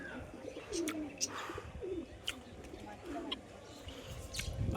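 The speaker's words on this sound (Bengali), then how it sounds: "মামা পায়রা উড়াচ্ছে, দেখতে পাচ্ছ।" Pigeons coo softly in low, throaty bursts, with scattered chirps and faint flutters over quiet background noise.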